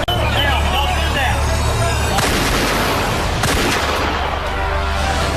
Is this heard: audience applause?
no